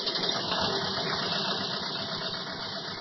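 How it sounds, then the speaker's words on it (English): A motor running steadily and loud in a story scene, holding a constant mechanical drone without pause; no voices. "At that moment, Marcel hears a motor start"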